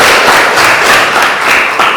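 A university class bursts into loud, dense applause after a mathematics lecture, a close, continuous wash of clapping with no speech over it.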